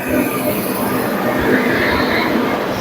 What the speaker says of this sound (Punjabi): ਜਾਖਰ ਰੇਲਵੇ ਸਟੇਸ਼ਨ ਤੇ ਟ੍ਰੇਨ ਆ ਗਈ ਆਪਣੀ